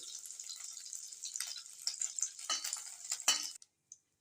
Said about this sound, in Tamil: பட்டை கிராம்பெல்லாம் நல்லா பொரிஞ்சிருச்சு